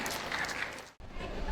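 A crowd at a local food festival and menu-creation contest in Siak Regency applauds to welcome a speaker, a steady wash of clapping that cuts out briefly and then resumes.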